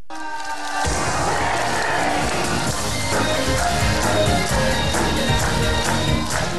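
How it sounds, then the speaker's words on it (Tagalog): A studio audience at an evening show bursts into loud applause and cheering, starting from near silence and quickly building into a dense, sustained roar of clapping and shouts. "napakasarap pakinggan na inyong mga palakpak at sigaw"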